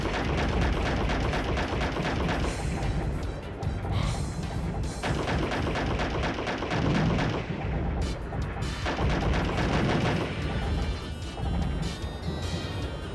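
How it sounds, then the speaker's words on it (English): Dense, continuous gunfire and explosions from a combat video game, a loud, busy barrage of shots and blasts with only a brief lull partway through. "I think it's just these guys shooting."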